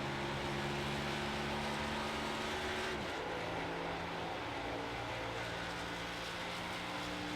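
Race car engine in the iRacing sim, a NASCAR Xfinity car at Texas Motor Speedway, droning steadily with a clear downshift and throttle blip partway through as the pitch drops and settles into a new steady tone; no talk.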